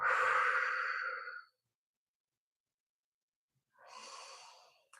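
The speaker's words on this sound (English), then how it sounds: "breathe in through your nose if you can. Exhale long." Close, quiet breathing: a long, airy exhale fades into silence, and after a pause a softer breath follows.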